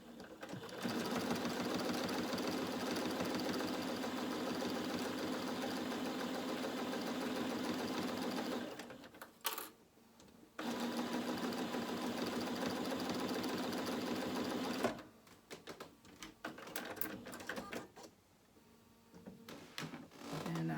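A sewing machine stitches binding down in the ditch on a fabric project bag, a steady loud whirring run for several seconds, a short pause, another long run, then stop-and-start bursts, with no voice.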